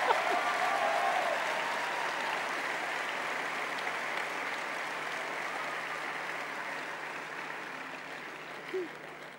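Sustained applause from a large crowd at a political campaign rally in Rouen, steady and fairly dense throughout, with a faint voice briefly audible near the start.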